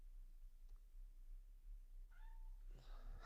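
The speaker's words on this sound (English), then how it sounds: "My cat wants to get involved in this podcast episode" A pet cat gives a couple of short, fairly close meows at the end, the second louder, over a quiet room hum with no talking.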